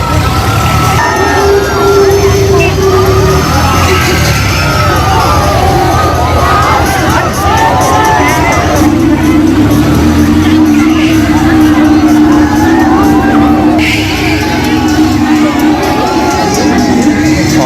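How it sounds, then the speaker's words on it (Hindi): Dense crowd at the Nainital fair near the Columbus and a spinning wheel ride, a loud, constant mix of many voices, mechanical ride noise and a wailing siren-like tone, with someone talking close by. "कोलंबस में बहुत ही भीड़ है इस टाइम"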